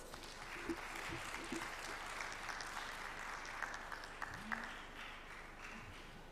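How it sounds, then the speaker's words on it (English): Audience at an international education conference claps warmly to welcome two children, a steady, dense round of applause filling the room with a few voices faintly underneath. "Let's give them a big round of applause."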